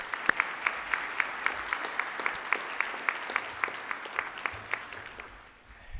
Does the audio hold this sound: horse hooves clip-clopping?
no